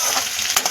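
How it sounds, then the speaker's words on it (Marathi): Tomatoes and coriander sauté in hot oil tempering, giving a loud, close, continuous sizzle with a brief stirring scrape near the end. "टोमॅटो पण आपले 2-3 सेकंद परतून घ्यायचे"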